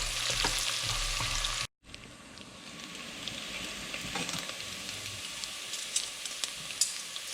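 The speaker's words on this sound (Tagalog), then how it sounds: "So, haluin lang natin." Beef broth with coriander being stirred in a pot for beef pares, a steady bubbling sizzle with stirring scrapes and a brief dropout near the start, no talking.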